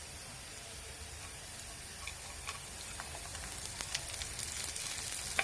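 Corn frying in a pan with onions and green chillies gives a steady, close sizzle throughout, with scattered crackles and pops that grow denser and a little louder toward the end.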